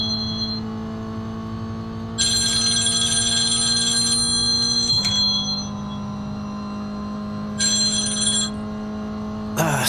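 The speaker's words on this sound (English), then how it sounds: "that's my phone ringing" A telephone rings in bursts over the steady drone of an iRacing GR Cup race car at Willow Springs, the shrill electronic ringing starting and stopping several times above the engine tone.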